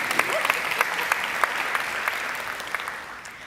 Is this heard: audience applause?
yes